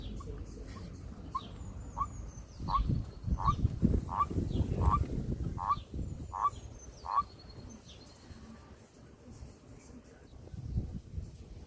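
Repeated frog croaks, about ten in a steady rhythm, close by in a garden pond among water mint, with faint birdsong in the background and a softer stretch of ambient noise afterward.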